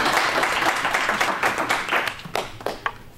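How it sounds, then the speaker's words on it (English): An audience claps to welcome a speaker at a talk on Lincoln, a dense patter of many hands that stays steady and fairly close, then thins into a few scattered final claps. "You can clap and welcome him."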